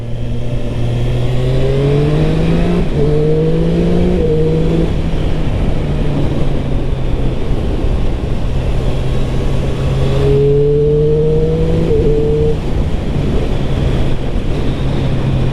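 A 2023 Triumph Street Triple RS motorcycle accelerates on the road, the engine note climbing repeatedly through quick, clean quickshifter upshifts, then settling into a steady cruise, loud and close under heavy wind rush with no talk.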